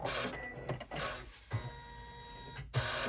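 An embroidery machine in the hoop stitching an inset zipper pocket onto a bag flap, with a loud, steady mechanical whir and rhythmic needle clatter, briefly pausing and restarting.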